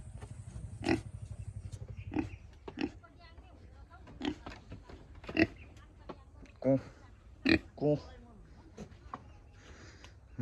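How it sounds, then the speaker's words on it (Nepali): Short snorting grunts from a small pig come in scattered bursts, mixed with nearby talking and a low background hum. "यता त्यसो सुँगुरको पाठा हो कि पाठी"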